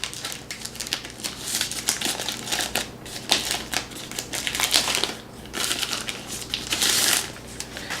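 Packing tape is torn and peeled off a cardboard box holding a mesh router system, giving close, crackly ripping and crinkling bursts in an irregular run of rustles, with no talking.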